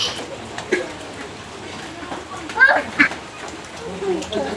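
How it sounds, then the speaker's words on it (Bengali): Ducks outdoors during a sudden rain shower let out a few short quacks at moderate distance, with a couple of sharper calls near the middle, over a steady patter of rain and some speech in the background. "আর এদিকে দেখেন বৃষ্টিতে কিন্তু হাঁসগুলা কিন্তু খুবই আনন্দ পাচ্ছে"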